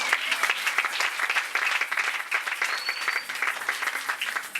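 A church congregation applauds in praise, a dense, steady wash of many hands clapping throughout, moderately loud and close, with no speech over it.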